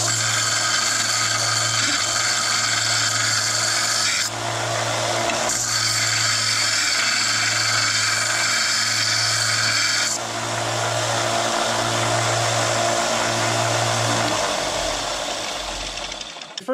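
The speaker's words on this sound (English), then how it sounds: "what I like to do is just chamfer the ends a little bit so it moves back and forth easier" Cut rebar ends being chamfered with a power tool, a loud continuous grinding whine with a steady hum underneath, briefly easing off twice before resuming, no talk.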